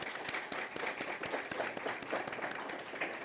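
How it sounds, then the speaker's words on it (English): Audience applause for principals and school board members at a teacher of the year recognition event, a steady, faint round of clapping from a gathered crowd, heard from a distance. "let's give both our principals and the school board members who are here a round of applause"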